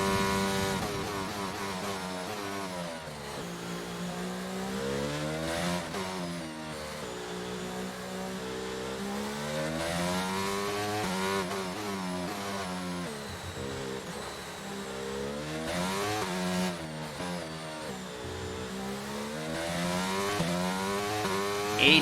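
An F1 car engine in the F1 22 racing game, set at a wet Miami circuit, screams steadily and loudly throughout, with its pitch rising and falling repeatedly through gear changes and acceleration, heard alone without talk.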